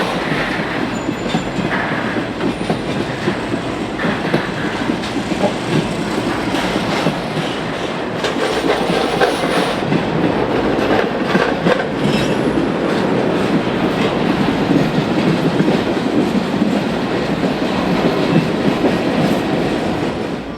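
A welded rail train on a Herzog train set, hauled by GE Dash 8 locomotives on the Chicago Fort Wayne and Eastern near Tolleson, passes loudly and close, with a constant rumble, rhythmic clickety-clack of wheels and faint wheel squeal.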